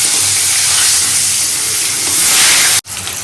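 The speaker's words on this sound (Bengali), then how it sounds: "এখানে মাছ ভাজাটা চাপিয়ে দেবো" Fish frying in hot oil next to raw banana fritters, a loud close hissing sizzle that swells slightly before cutting off abruptly, then resumes more quietly.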